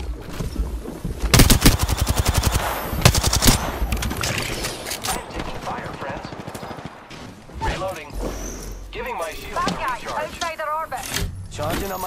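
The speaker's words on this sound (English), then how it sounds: "I am taking fire, friends." Automatic gunfire in the Apex Legends battle royale game, rapid bursts of shots that start loud and fade into scattered rounds, mixed with game effects and a voice talking over them.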